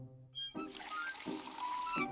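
Water is poured into a glass in a Woody Woodpecker cartoon kitchen, a brief steady splashing pour after a short tonal cartoon sound.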